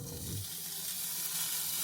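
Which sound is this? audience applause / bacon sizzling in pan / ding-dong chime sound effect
bacon sizzling in pan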